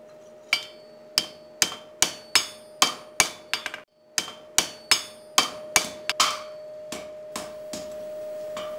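A hammer forges a horseshoe on an anvil in a steady rhythm of sharp, ringing strikes, about seventeen in all, with a brief pause midway and a faint steady metallic hum beneath.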